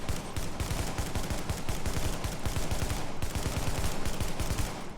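An SMG in The Division fires in short feathered bursts, giving a continuous run of rapid, punchy gunshots with brief pauses between groups, loud and close without any voices.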